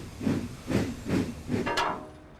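A voice mimics a toy steam engine named Emily puffing away, four rhythmic breathy chuffs and then a short whistle-like hiss, close and alone.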